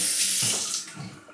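A Razorock Game Changer .84 safety razor is rinsed under a running tap, a close, full rush of water that softens and fades toward the end.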